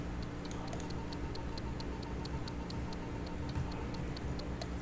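A steady, regular ticking in The Switch-Worker, crisp evenly spaced clicks over a loud humming background drone, with no voices.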